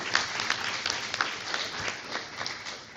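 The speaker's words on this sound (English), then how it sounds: "let's give them a round of applause." Soft, steady applause from a luncheon audience, a faint wash of many hands clapping at a distance throughout the few seconds.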